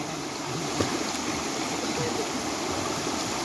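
Water flowing in a stream, a steady broadband rushing and babbling that holds evenly throughout with no speech over it.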